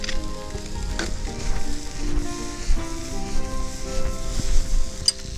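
Tomato slices and tender coconut sizzle and fry steadily in a hot pan, a dense continuous crackle with occasional louder pops and stirring scrapes, close and alone without any voices.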